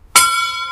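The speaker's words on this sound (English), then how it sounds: "A bell marks watches" A single bell struck once to mark the watches at a shipyard rings out loud and clear, its bright metallic tone sustaining and slowly fading with no voices around it.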